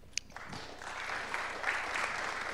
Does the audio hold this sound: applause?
yes